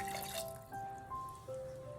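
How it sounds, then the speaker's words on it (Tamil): Two tumblers of water pour steadily into a cooking pot, with a rising, ringing tone as the vessel fills, fairly quiet and close. "இதில் 2 டம்ளர் தண்ணி ஊற்றணும்."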